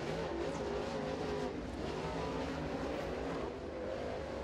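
A crate dirt track race car engine roars steadily through a qualifying lap at Crossville, a loud continuous drone heard from a distance with slight rises and falls.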